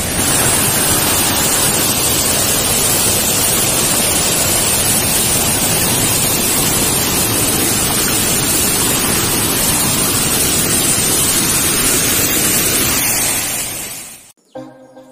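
Steady, dense roar of a forest waterfall, loud and unbroken throughout, cutting off abruptly near the end.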